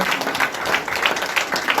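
Steady clapping from an audience at a celebration, many hands sounding together in a continuous patter at moderate loudness.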